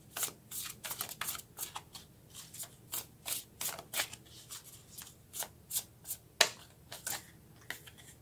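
Tarot cards shuffled by hand in a quick series of crisp riffles and slaps, repeated about fifteen times in an irregular rhythm, close and fairly quiet with no talking.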